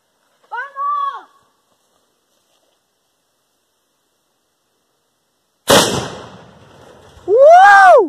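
A homemade cannon fires once at a bucket target, a sharp broadband blast with a decaying rumble tail, followed by a loud cheer; an excited voice precedes the shot.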